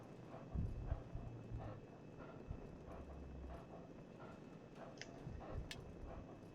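A horse named Buttercup trots with clip-clopping hooves, a faint irregular series of hoof knocks in a quiet outdoor setting, with occasional small bumps and a brief dog-like yelp.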